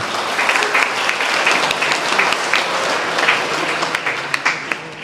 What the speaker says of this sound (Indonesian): Tepuk tangan untuk Bapak Kardinal kita.